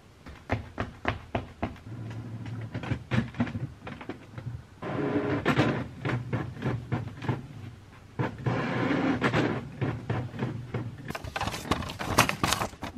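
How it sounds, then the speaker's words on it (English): An office printer at a yarn store prints orders, giving repeated mechanical clacks and rolling feed runs in a rough, uneven rhythm with short pauses, close and alone. "Printing out orders, if the printer wants to work."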